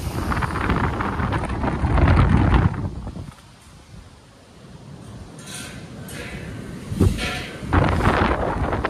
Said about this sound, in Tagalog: Sobrang lakas na hangin dito sa bayan na Balogo po sa mga kasi may bagyo.